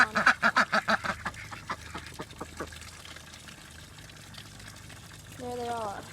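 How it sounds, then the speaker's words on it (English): Ducks quacking in rapid repeated calls near a farm pond, loud at first then thinning out, followed by a softer stretched call at the end, with quiet outdoor background. "Everybody stay over there with Ducky's already in the pond"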